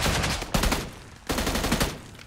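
Bursts of automatic gunfire in a battle royale video game, two dense volleys separated by a brief pause, loud and close with no talk over them.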